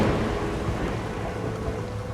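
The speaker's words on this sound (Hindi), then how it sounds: "ये तूफान कुछ ज्यादा ही तेज है आज" Heavy rain pours down steadily during a thunderstorm, with a dense, loud roar and low rumbling throughout, no voices.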